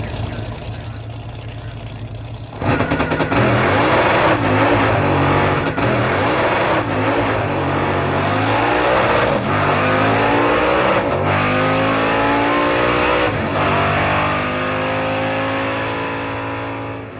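A drag racing car launches hard down the strip with a loud, sustained roaring engine that surges and climbs in pitch for many seconds, then slowly fades, with no voices over it.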